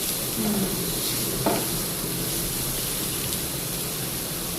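Chopped onion, cabbage and grated carrot frying hard on a gas burner at full flame, a steady broadband sizzle with occasional scraping stirs of a spatula against the pan, close and continuous.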